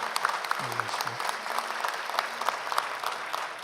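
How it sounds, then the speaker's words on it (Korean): A congregation claps warmly after deacons are ordained at a Korean Presbyterian church ceremony, dense steady applause throughout with a brief low murmur of voices near the start. "뜨거운 박수해 주시기 바랍니다."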